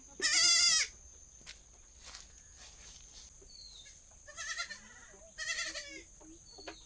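A herd of about fifteen goats being driven along bleats, with one loud, close cry at the start followed by several quieter, scattered bleats at varying distances.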